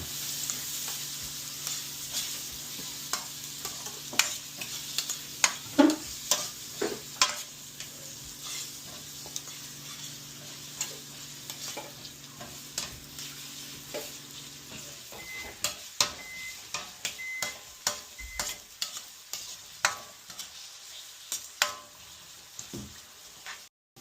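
Onions sautéed in a pan for pork belly kaldereta: continuous frying sizzle with repeated stirring scrapes and clicks from a utensil against the pan, steady and close, the hiss thinning in the later part while the stirring goes on.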